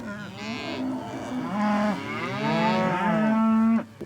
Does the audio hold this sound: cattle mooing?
yes